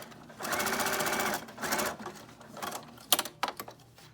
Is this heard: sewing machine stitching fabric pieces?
yes